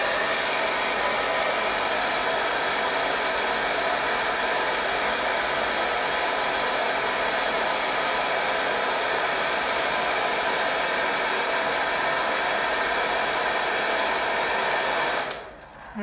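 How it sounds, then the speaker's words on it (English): A hair dryer drying a painting blows with a loud, steady whooshing hiss for a long stretch, then switches off near the end. "I'm just gonna use my hair dryer to speed things up."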